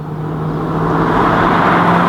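BMW M3 E92 with its V8 engine driving, a loud steady engine drone that swells slightly as it pulls, heard alone for about two seconds.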